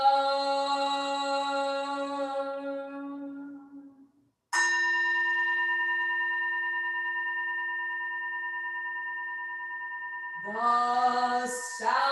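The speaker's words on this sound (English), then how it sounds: "The sound of the temple bell booms for all to cease from conflict" A temple bell rings during a Buddhist service, striking twice in full tones with long, pure, slowly fading hums, and a third strike comes in near the end.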